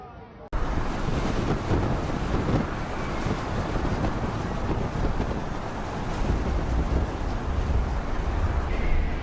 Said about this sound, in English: These waves are quite powerful and high.